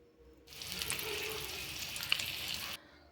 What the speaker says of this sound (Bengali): ডিমটা আমি হালকাভাবে ভেজে নেব।